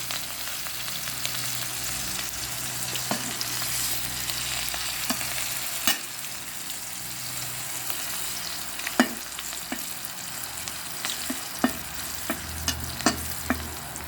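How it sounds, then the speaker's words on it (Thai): Chili and garlic stir-fried in a pan, a low continuous sizzle broken by repeated spatula scrapes and knocks against the pan at irregular intervals, close, with no talking. "ผัดพริกกระเทียมกันเลยอ่า"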